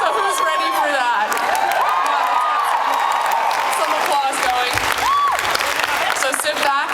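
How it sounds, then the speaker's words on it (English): Audience at a Lost Girl fan expo panel in Canada breaking into loud applause with cheers and whoops filling a large hall, a steady dense roar of clapping with excited shouts rising above it. "Some applause going."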